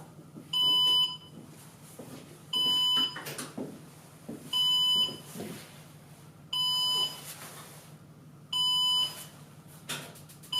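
Alarm from a homemade Arduino seismic sensor built around a GY-61 accelerometer: a shrill electronic beeping in regular bursts about every two seconds, each roughly half a second long, with faint handling noises between them.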